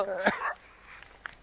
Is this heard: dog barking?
yes